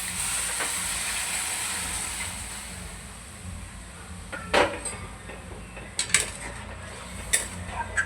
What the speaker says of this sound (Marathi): आता याच्यामध्ये गरम पाणी केलं मी, ते ओतूया आपण